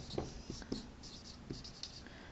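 Marker or chalk strokes on a board come as a few short, quiet scratches and taps in an uneven rhythm, with nobody speaking.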